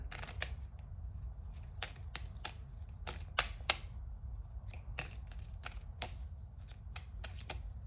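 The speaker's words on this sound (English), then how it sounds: "Let me flip the deck." A deck of tarot cards is flipped and handled, producing quiet, crisp snapping and flicking taps scattered irregularly over a soft background hush, with no voices.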